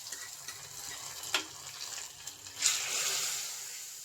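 Onions fry in a pan for sambar, a faint sizzle with a few soft clicks of stirring, then a brighter hiss rising near the end and carrying on quietly.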